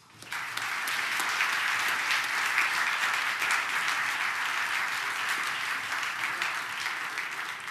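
Audience at a university lecture, at Washington University in St. Louis, breaks into steady, full applause that swells quickly after a quiet start and holds strongly for several seconds without letting up.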